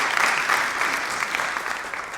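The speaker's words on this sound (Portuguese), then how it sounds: "palmas para Dom Pedro, gente, por favor." A crowd applauds steadily, a dense wash of clapping heard from a moderate distance with no voices on top.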